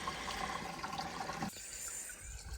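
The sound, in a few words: water trickling in as a tank fills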